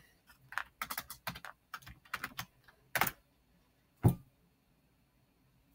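Fast bursts of keystrokes on a computer keyboard while entering a password on a Eurotherm EPC3000 programmable controller setup, close and crisp, with pauses between runs and a heavier final key press.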